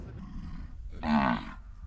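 Cattle on a ranch in the Brazilian Amazon, São Félix do Xingu, give a single loud, drawn-out moo that swells and fades over a low background rumble.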